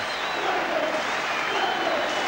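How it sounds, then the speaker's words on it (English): A stadium crowd at a Hull rugby match applauds the newly crowned first division champions, a dense, steady wash of clapping with distant cheering voices carried across the ground. "The crowd salutes and applauds them."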